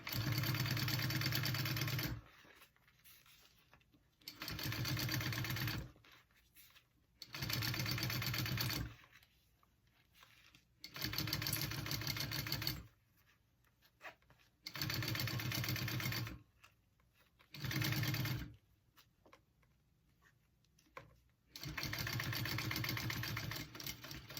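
A sewing machine stitches leather for a tote bag in repeated bursts of steady motor whir, about eight runs of a few seconds each, separated by short quiet pauses.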